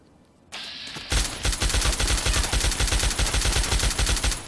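Heavy gunfire from a powerful gun in the Fallout 3 video game: a steady, rapid burst of loud, punchy shots that runs on after a brief lead-in, with no talking.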